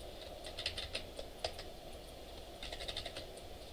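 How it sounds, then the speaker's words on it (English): Quiet, close clicks of typing on a computer keyboard during data entry in a web database form, coming in short irregular bursts with brief pauses between them. "I can go in and type in"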